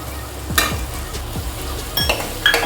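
Green peas stirred into a frying tomato masala for a cauliflower, pea and potato curry, with repeated scraping spoon strokes and clinks over a loud, continuous sizzle.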